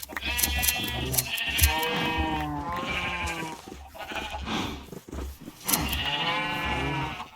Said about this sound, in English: Let's run over to the sheep pen.